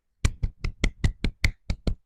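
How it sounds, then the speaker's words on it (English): A single person's hands clapping nine times in a steady, fairly quick rhythm, sharp and close, with no voices. "That's my hands clapping and applauding because I finally did get a job."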